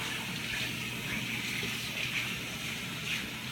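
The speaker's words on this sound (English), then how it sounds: "I'm going to rinse my hands off here" Tap water runs steadily into a sink as hands are rinsed, a close, continuous gushing splash with slight variations as the hands move through the stream.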